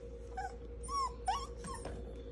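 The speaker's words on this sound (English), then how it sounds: "Godiva, you better leave that puppy alone." A dog pesters a puppy, giving high, nasal whimpers and yelping whines in short bursts over a low background hum.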